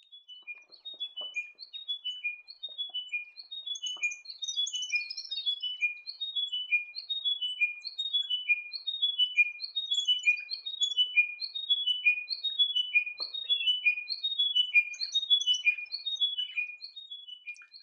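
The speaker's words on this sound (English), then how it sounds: "The chiming wedgebill is found in taller scrubland west of the Lake Eyre Basin." Chiming wedgebills in Central Australian desert scrubland repeat a clear, descending series of bright chiming notes again and again, with overlapping birds calling steadily against otherwise quiet surroundings.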